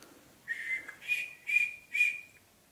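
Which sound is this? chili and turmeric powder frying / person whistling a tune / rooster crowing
person whistling a tune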